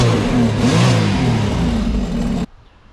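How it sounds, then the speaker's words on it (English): A Sea-Doo Spark personal watercraft engine runs loudly and steadily close by, its tone shifting slightly, then cuts off abruptly near the end, leaving quiet. "we just cranked the engine, let it sit for a second"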